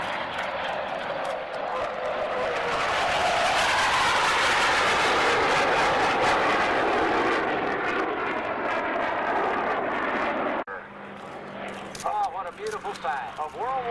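An A-7 Corsair jet sweeps past in formation at a 1990 NAS Lemoore air show, a loud, broad roar swelling and holding for about ten seconds before cutting to a quieter stretch with faint voices.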